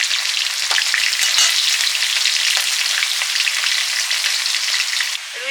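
Garlic frying in hot oil, a dense, loud, continuous sizzle close by that barely changes for several seconds, with faint stirring clicks and no talking.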